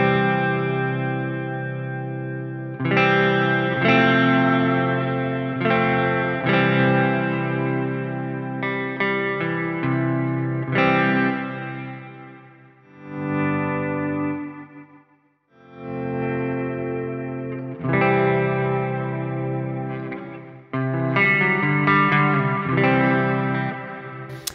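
Meris Mercury X effects pedal on a Hall reverb setting, processing a distorted, chorus-tinged guitar: sustained chords bloom and ring out with a long, spacious tail, pausing briefly midway before the playing resumes, loud and continuous with no voices.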